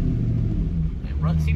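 A 1996 Cobra with a manual gearbox driving around the block, steady low engine rumble heard from inside the car, loud and close, with speech over it.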